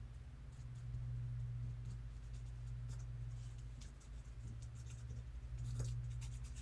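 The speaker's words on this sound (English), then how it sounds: "Color pencil. It's a Prismacolor" A Prismacolor colored pencil scratches across paper in short, faint, irregular strokes over a low steady hum.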